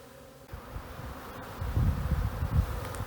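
A honeybee swarm hums in a low, continuous drone, faint at first and then growing denser and louder as more bees join, with no voices present.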